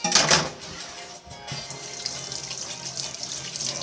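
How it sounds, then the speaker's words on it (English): A kitchen sink tap runs while hands are washed during home cooking, a steady close wash of water with a brief splashy burst at the start, then a continuous even flow. "Wash my hands."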